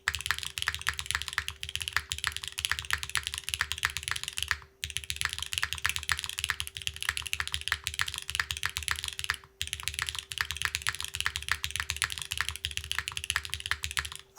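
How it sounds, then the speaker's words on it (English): Mechanical keyboard with a carbon fiber plate and no foam, typed on in steady rapid bursts of crisp, close clacks, with two brief pauses and no talking. "Ooh, the carbon fiber plus this switch is..."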